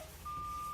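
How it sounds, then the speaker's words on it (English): A truck cab's low air pressure warning buzzer gives a steady, thin electronic tone that starts partway through and holds to the end, with no speech. "my warning light and buzzer came on"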